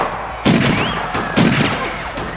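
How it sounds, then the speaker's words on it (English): Gunfire cracks out in two sharp, loud reports about a second apart, each with a booming low thump, over a noisy background. "Gunshots, Steve!"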